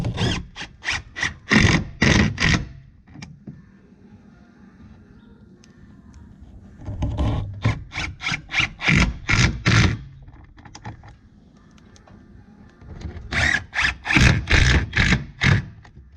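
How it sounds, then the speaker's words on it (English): A Milwaukee cordless drill driving screws into Baltic birch plywood for a first-generation 4Runner tailgate: repeated bursts of rapid whirring and ratcheting pulses, close and loud, separated by quieter pauses. "So I got about half the screws in"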